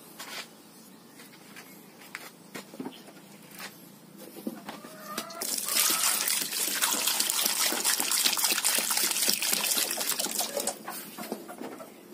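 Water runs and trickles over sweet potatoes being washed outdoors on a farm, light splashes at first and then a louder, steady gush, with birds calling faintly in the background.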